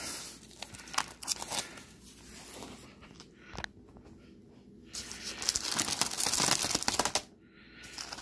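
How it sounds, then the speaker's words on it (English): A zipper is dragged around a full hard-shell car CD case, producing rough, halting rasps and crinkly tearing bursts separated by brief pauses. "trying to zip it closed."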